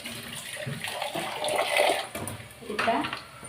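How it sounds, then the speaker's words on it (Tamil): Water poured a little at a time into a cooking pot of kara kuzhambu with brinjal and drumstick, a close splashing gush rising and falling over a few seconds, partly under soft talk. "இப்போ கொஞ்சமாக நான் தண்ணி ஊற்றிக்கிறேன்"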